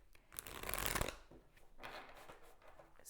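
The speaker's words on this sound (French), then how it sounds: "Je vais vous tirer une carte comme celle-ci." A tarot card drawn from the deck with a papery rustling swish as the cards are handled and slid apart, then a few softer rustles, close and quiet with no voices.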